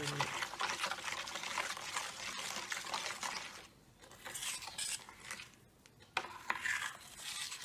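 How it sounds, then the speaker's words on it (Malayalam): Appam batter is stirred in a bowl after water and tamarind are added, giving soft wet scraping and sloshing with light clinks of a utensil. The sound is close and uneven, pausing briefly twice. "ഇത് ഒഴിച്ചിളക്കി ഇളക്കി മാവിലേക്ക് പുളി ഇട്ടു"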